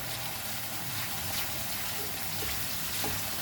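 Water poured into Goan mutton cafreal masala in a hot pan sets off a steady, close, hissing sizzle that stays even and unbroken throughout.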